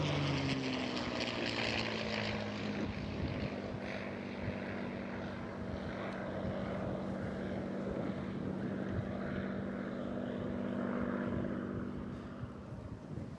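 A propeller aircraft of the Rolls-Royce Heritage Flight drones overhead at an airshow over Eastbourne, a steady engine hum with a slowly falling pitch, fairly distant and sustained.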